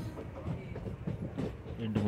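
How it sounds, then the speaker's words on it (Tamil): An Indian unreserved passenger train from Chennai Central toward Chittoor rumbles and clatters over points while crossing from the slow line to the express line, a steady rhythmic wheel clack heard from inside the coach, with someone talking over it. "ஸ்லோ லைன்லேருந்து எக்ஸ்ப்ரெஸ் லைனுக்கு சேஞ்ச் ஆகுதுங்க."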